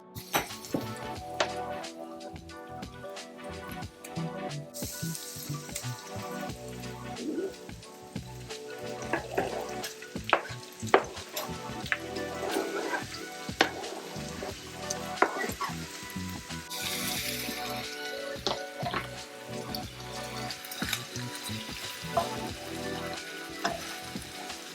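Turkey meat fries with onions in a pan, giving a steady moderate sizzle broken by scraping and clacking as a utensil stirs, with no talking over it.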